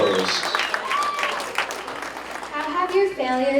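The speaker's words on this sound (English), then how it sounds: "Let's have a big round of applause" An audience at a youth soccer awards ceremony claps for a girls' under-12 team being called up, a brief burst of steady applause with voices rising over it toward the end.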